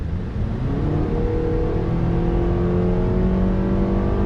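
A 2019 Honda CR-V with the 2.4-liter engine and CVT accelerating hard, a steady droning engine note rising smoothly in pitch without gear shifts, loud and continuous from inside the cabin.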